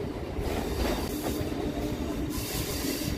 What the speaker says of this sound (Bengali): এখান থেকেই আমাদের ট্রেনটা বাঁদিকে বাঁক নিয়ে পার্ক সার্কাস স্টেশনের দিকে যাবে।